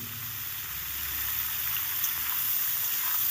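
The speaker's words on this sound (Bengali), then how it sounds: "ভালো করে নেড়ে চেড়ে একটু ভেজে নেব সব কাটা সবজি" Chopped mixed vegetables with salt and turmeric fry together in a pan, producing a continuous hissing sizzle that swells slightly louder toward the end, with no one talking.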